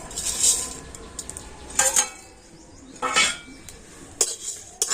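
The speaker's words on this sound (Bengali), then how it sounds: "এবারে আমি এই সমস্ত মশলাগুলো কড়াতে দিয়ে দিচ্ছি" Whole spices with dried chillies and bay leaf fry in a wok for a raw mango pickle, a soft sizzle broken by a few sharp metal spatula scrapes and clinks against the pan, close and with no talk.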